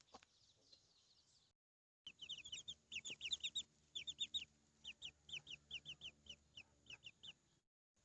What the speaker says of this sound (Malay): Tu anak ayam batch pertama yang kami orang jaga sendiri.